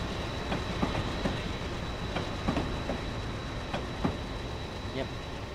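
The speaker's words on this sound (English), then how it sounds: "That Amtrak train is going rather slow." An Amtrak train in Train Simulator 2017 rolls slowly over the rails, with a low rumble broken by repeated clicking wheel beats at irregular intervals, while a voice talks over it.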